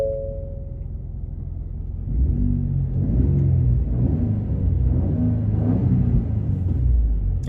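A 2021 Ford Raptor pickup truck engine cranks and fires up into a deep, steady rumbling idle, loud and close, with no talking.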